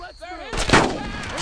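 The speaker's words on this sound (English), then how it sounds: "Heavy fire, right there! Fire at him!" Gunfire in the World War II shooter Brothers in Arms: Road to Hill 30, a sharp, loud shot bursting in after a brief whooshing lead-in, then a ringing, echoing tail.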